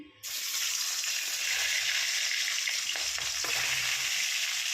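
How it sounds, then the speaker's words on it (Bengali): Large pieces of boal fish drop into hot oil, setting off a sudden loud, dense sizzle that holds steady and close with faint crackles and no talk. "বড় মাছগুলোকে সকলে ছেড়ে ভেজে দিচ্ছি"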